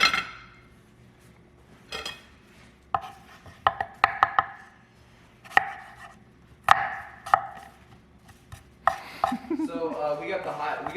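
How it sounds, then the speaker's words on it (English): An apple being chopped with a knife on a cutting board, sharp separate knocks of the blade landing in irregular bursts, close and fairly quiet, with a scraping shuffle near the end. "same concept with the apple. You know, just go like that, just chop it."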